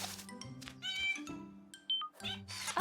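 A cartoon kitten meows in short, bright cries, several in a row, over a busy animated-show soundtrack of bouncy music and effects, with a louder squeal near the end.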